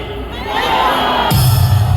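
A large crowd at a Gwanghwamun rally cheers and shouts loudly in a dense, sustained roar that swells and holds, with scattered voices rising above it.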